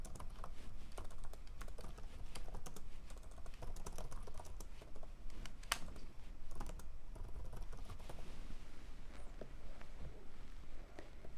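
Rapid, continuous typing on a computer keyboard, key clicks tapping close and fairly quiet in an uneven rhythm throughout, with no talk.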